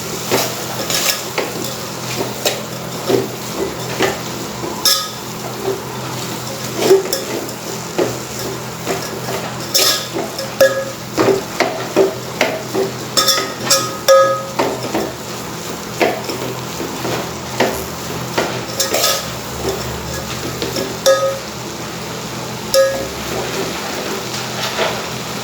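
Banana flower vegetable being stirred in a pan, a spoon scraping and clinking against the metal in steady strokes over a soft continuous sizzle, close and fairly loud.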